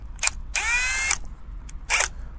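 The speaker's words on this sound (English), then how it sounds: "I'm using the chisel tip of the drill bit to align to that dimple we made." A handheld drill spins in reverse as its chisel-tipped bit seats into a dimple during a tricopter drone rebuild, heard as three short whirring bursts, the middle one longest, close and fairly loud with no talk.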